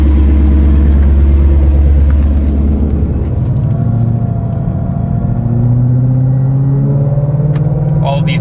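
A 2020 Ford Shelby GT500 Mustang, bone stock, rumbles with a deep, loud engine note as it pulls away, the pitch climbing steadily while it drives off, with occasional voices over it.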